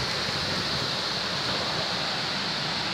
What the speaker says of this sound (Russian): дикий ураган